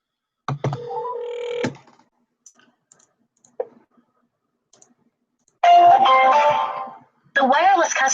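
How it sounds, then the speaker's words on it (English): Telephone being dialed: a short tone, then scattered quiet button clicks, followed by two loud electronic ringback tones separated by a brief gap. "I like dialing the phone."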